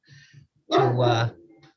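A dog at home during a committee meeting lets out one loud, close bark, with faint quieter sounds before and after it.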